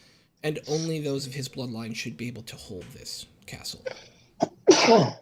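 A person talks at length, then a sudden sharp sneeze bursts out close and loud at the very end.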